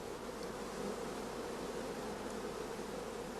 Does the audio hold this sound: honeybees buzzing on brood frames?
yes